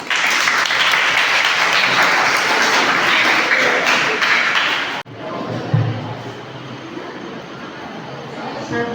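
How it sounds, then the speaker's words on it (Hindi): An audience at a school debate competition at a government high school in Bibipur bursts into loud, dense applause for about five seconds, then it cuts off abruptly, leaving a quieter room with faint murmuring. "ताली बजाइए"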